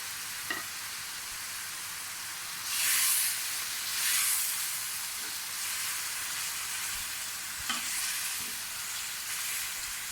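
Green chillies fry in a pan while aloo bhindi is prepared, giving a steady soft sizzle and hiss with occasional louder bursts of spattering and a few light stirring scrapes, no voices.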